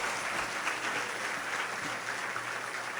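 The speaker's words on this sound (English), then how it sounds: "Please give them a big round of applause." A hall full of people at a youth convention applauds students, producing a brief, even burst of dense clapping with no break.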